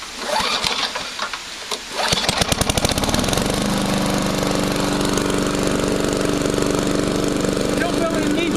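A lawn mower engine that had been stored on a picnic table under a tarpaulin sputters into life, then settles into a loud, steady running drone close by.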